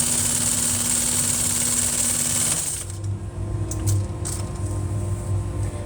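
An industrial sewing machine stitching upholstery welt runs loudly and steadily up close, then its pitch drops and a few light clicks and taps sound over the continuing motor hum.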